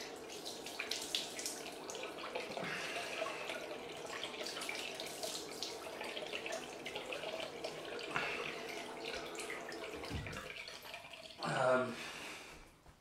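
Water running from a tap while a razor is rinsed, a steady splashing flow with a brief louder gush near the end, with some faint voice underneath.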